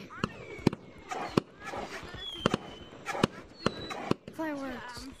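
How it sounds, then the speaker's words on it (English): Fireworks in the video game Gorilla Tag: a string of sharp bangs and crackles, some with rising whistles, popping irregularly throughout while people talk over them. "Fireworks."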